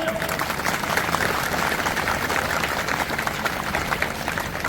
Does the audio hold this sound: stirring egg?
no